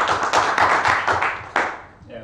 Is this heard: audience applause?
yes